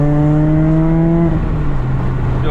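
Mazda MX-5 on a test drive, its engine droning steadily up close with a tonal hum that drops in pitch partway through as the car eases off, loud and continuous with no talk.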